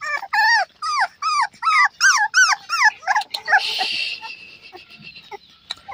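Shih Tzu, Beagle and Pug puppies whimper and squeal in a rapid series of high, wavering cries, close and loud, fading into softer rustling at the end.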